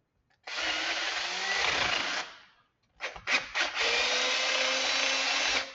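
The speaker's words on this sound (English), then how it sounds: "I have to drill it with a 1/4 drill bit." A power drill with a 1/4 drill bit bores a hole in a Subaru engine, whining steadily for about two seconds, then stopping and restarting with a few short bursts before running steadily again.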